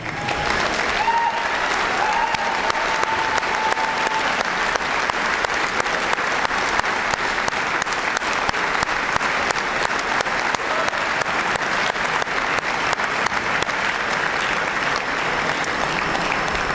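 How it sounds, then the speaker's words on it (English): A large arena crowd applauds former Stu Aberdeen basketball players returning to Acadia for a dedication ceremony, with dense, loud, sustained clapping and some cheering that holds steady through the whole stretch. "let us give you a big round of applause"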